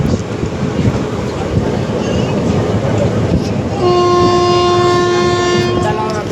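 Train passing a railway level crossing, a loud rumble of rolling wagons building up, then a sustained horn blast sounding close for the last few seconds.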